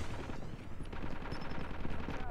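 Rapid automatic Type 25 rifle fire from Call of Duty Mobile gameplay crackles in dense bursts, fairly quiet, with faint game noise around it.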